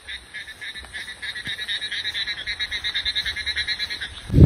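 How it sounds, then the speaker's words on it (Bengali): Frogs croak at night in rainy wet fields in a rapid, regular pulsing chorus that grows louder and steadier, with a faint hum behind it and a sudden bump at the very end. "সবাই চুপ করো, ব্যাঙের ডাক শোনাই তোমাদেরকে।"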